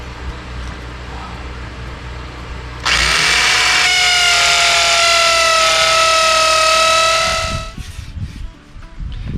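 A hammer drill bores into concrete with a loud, steady whine that starts abruptly, holds for about five seconds, then winds down, over background noise on a muddy site.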